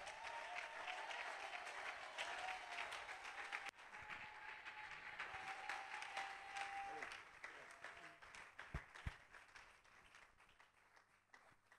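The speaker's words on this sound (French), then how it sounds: "Aidez-moi à acclamer le Seigneur." A church congregation applauds and cheers, a sustained wash of clapping that swells early and then tapers off slowly, with voices calling out through the crowd and a few louder claps standing out near the end.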